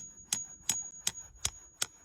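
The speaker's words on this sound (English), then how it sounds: "take a spile and a hammer and just gently tap that spile" Hammer gently tapping a metal sap spile into a maple tree, five evenly spaced sharp knocks about a third of a second apart, close and clear with a steady high tone running underneath.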